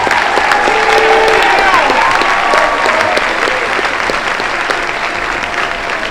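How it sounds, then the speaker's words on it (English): A large graduation ceremony crowd claps loudly and steadily for the teachers, dense applause filling the hall with a few higher tones and faint cheering mixed in. "Give them a huge round of applause."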